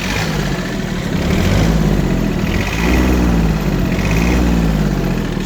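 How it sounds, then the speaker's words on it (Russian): A Yanmar AF17 mini tractor's three-cylinder diesel engine runs steadily nearby, a loud low chugging idle that rises slightly in pitch twice as if lightly revved, with no talking. "Двигатель у нас здесь, естественно, трехцилиндровый."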